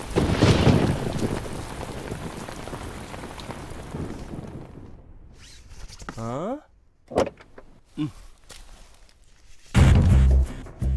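Heavy rain pours loudly for several seconds in a thriller film scene, then fades out as people start talking, with a few short bursts of noise between their voices.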